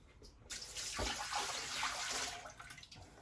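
Water gushes steadily into a metal dough mixer bowl for a couple of seconds, a close, splashy pour that stops abruptly.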